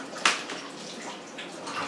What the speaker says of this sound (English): Time to wash hands and table.